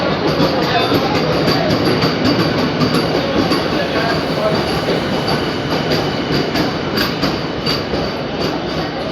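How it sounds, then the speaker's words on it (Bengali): A Sealdah–Ranaghat AC local train of the Eastern Railway pulls in on its inauguration day with a loud, continuous rumble of wheels on rails, rhythmic clacking and high wheel squeal close by, with faint crowd voices underneath. "তো এসে গেল AC local train eastern railway"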